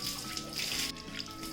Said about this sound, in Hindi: और फिर इसे पानी से धो लूँगी